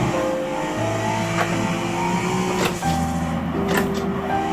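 A race car engine in Forza Motorsport 7 revs and pulls hard, a loud, continuous drone whose pitch climbs between gearshifts, alone with no voices.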